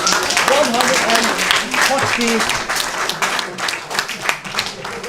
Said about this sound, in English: Let's give them a 10 points and a big round of applause.